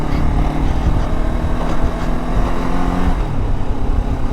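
Zongshen RX3S 380cc motorcycle being ridden in Lahore, Pakistan, a loud continuous engine drone with steady rumble and shifting pitch near the end.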